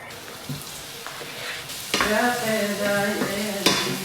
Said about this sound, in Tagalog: Gigisahin ko lang itong patatas.